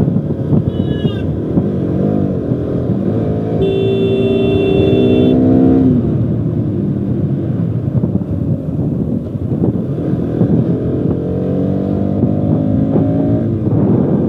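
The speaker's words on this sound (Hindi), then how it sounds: "बहुत ज़्यादा ट्रैफिक देखने को मिल रहा है" Heavy road traffic in Kashmir near Anantnag on the way to Kokernag: a loud, constant engine throb and hum mixed with wind buffeting, with a couple of long horn blasts midway.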